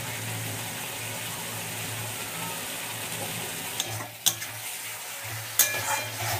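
Masala with turmeric, tomato and garam masala frying in a pan gives a steady low sizzle while it is stirred, with a few sharp utensil scrapes and clinks near the end.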